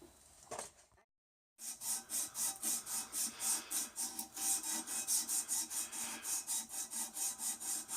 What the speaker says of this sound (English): So let's sand them.